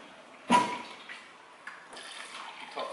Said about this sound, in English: Top that up with water.